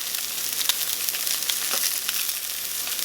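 Salmon fries skin side up in a pan on an electric stove, giving a steady, dense sizzle and crackle with small spits and pops, close and continuous throughout, with no talking.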